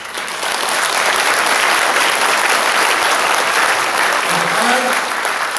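Audience applause at the 2019 KCPAC conservative conference in the Grand Hyatt hotel in Seoul, a loud sustained wall of clapping from a large crowd with a faint voice near the end.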